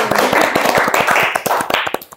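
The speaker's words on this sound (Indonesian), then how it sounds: "Tepuk tangan dulu dong" Clapping from an audience at a school event with alumni of Insan Cendekia Magnet School, a quick run of sharp, fairly loud claps that thins out into scattered hand claps and stops.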